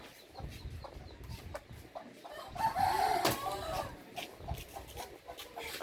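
A hen clucks and squawks in short agitated bursts outdoors in the Philippines, rising to a louder harsh cry midway against steady rustling background noise.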